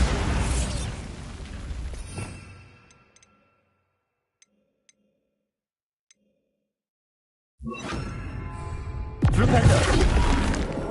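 Bombarda blasting spell in a video game: a loud explosive burst that fades over a couple of seconds, then near silence with a few faint ticks, before another heavy blast erupts with crackling debris.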